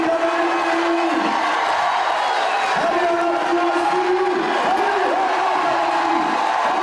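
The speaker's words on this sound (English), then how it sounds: "Listen to the crowd, listen to the noise." A loud, continuous roar from a crowd at a strongman competition during a heavy shoulder-weight lift, with sustained yelling and whooping voices rising and falling over the steady din.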